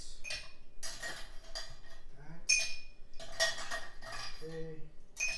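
Ice cubes clatter and clink into a cocktail mixing glass while a Red Hook cocktail is being made, coming as several close bursts of bright knocks and rattles with brief pauses between them.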